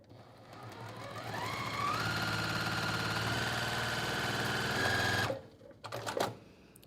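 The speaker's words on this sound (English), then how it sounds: "I'm just gonna sew all of these straight lines" A sewing machine stitches straight seams on a quilt block, its motor humming and whirring as it ramps up to a steady, fast stitching drone, then cutting off abruptly, followed by a few brief mechanical clunks.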